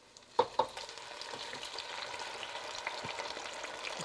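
Tomato pieces hit a pan of frying onions with a couple of sharp spits, then a steady close sizzle continues on its own, with faint stirring scrapes throughout.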